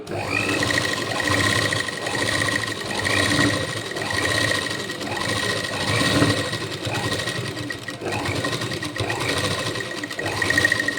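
A sewing machine stitches along a folded belt, its motor whirring steadily with a fast rhythmic needle clatter that swells and eases in several runs, close and continuous throughout.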